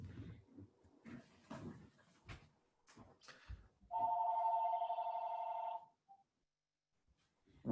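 A phone ringing during a conference presentation on earthquake relief, its electronic ring tone sounding steadily for about two seconds after some scattered talk, then cutting off into near silence.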